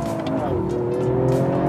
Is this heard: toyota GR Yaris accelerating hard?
yes